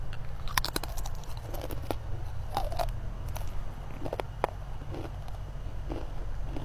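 Crisp bites into crunchy, oil-free purple sweet potato chips, a scattering of sharp cracks and crunches close to the microphone over a low steady background hum, with no voices.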